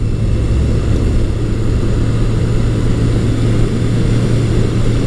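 A 1983 Suzuki GS1100E motorcycle at riding speed, its engine giving a steady, loud, continuous drone with strong low hum and wind roar throughout, no voices.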